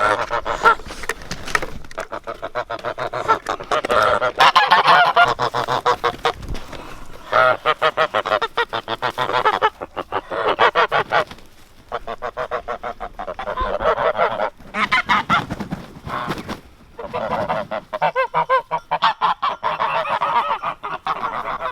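Geese on a farm honk loudly and repeatedly in the morning, a noisy flock calling over one another in bursts with brief pauses between.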